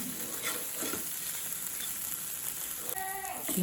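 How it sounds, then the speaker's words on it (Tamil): Egg fries and is stirred in a pan for egg kottu, a close bubbling sizzle with scraping spoon strokes and a clink near the end, a voice briefly audible. "இப்படி முட்டையை போட்டு இப்படி பொரியுவோம்"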